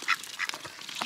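Short, close bursts of harsh squawking from geese at a homestead pond, two or three quick raspy calls in about a second.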